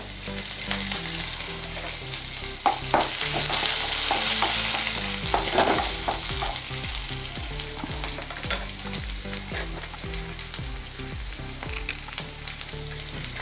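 Ginger, garlic and curry leaves fry in hot oil for green mango pickle, giving a loud, continuous sizzle close by, with frequent stirring scrapes through the whole stretch.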